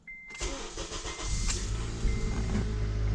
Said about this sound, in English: Let's see if I can start the car up.